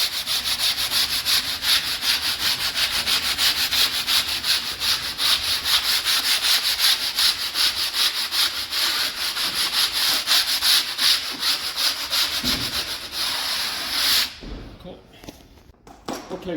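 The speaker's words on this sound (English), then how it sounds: "So what I need to do first is sand the edge up." Hand sanding along the edge of a laminate kitchen worktop, a steady fast back-and-forth rasp that runs close and continuous before stopping near the end, with someone talking over it.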